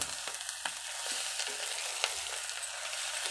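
Eggs fry in oil in a pan for an egg curry, giving a steady close sizzle broken by light scraping and stirring clicks, with no voices.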